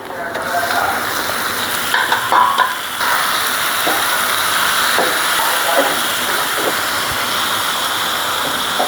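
Fish goes into a hot pan for a ridge gourd and fish curry, producing a steady, close hissing sizzle with small crackles and a brief clatter early on. Voices are faint underneath.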